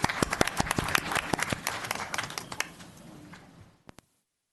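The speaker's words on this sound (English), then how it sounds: "Yeah, clap it up." Audience clapping at a check presentation ceremony, a cluster of sharp, close hand claps that thins out and fades, ending in a couple of last isolated claps before silence.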